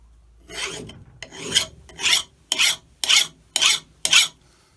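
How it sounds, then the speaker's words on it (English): Hand file rasping on a workpiece, seven rhythmic strokes: two longer scrapes, then five short, crisp, evenly spaced passes, close up and loud, with no talking. "Listen to the file."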